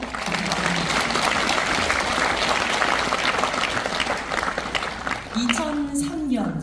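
Audience applause at a peace concert marking the Kim Dae-jung centenary in a hall, a broad sustained roar of clapping from a large crowd, with a voice beginning to speak over it near the end.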